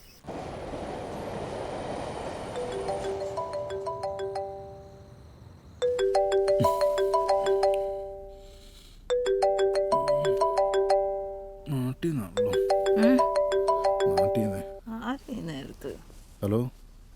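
A mobile phone ringtone plays a repeating melodic tune in three or four bursts separated by short pauses, fairly loud and close, with people talking over parts of it during a Malayalam movie scene.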